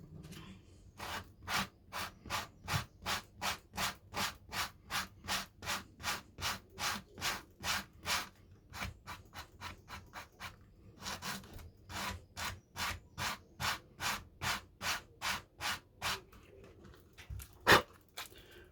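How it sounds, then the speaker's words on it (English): Rhythmic hand sanding along the edge of a leather tool pouch, a steady series of close, crisp rasping strokes at roughly two per second, with a brief pause midway and a sharp knock near the end. "So I'll carry on with this sanding"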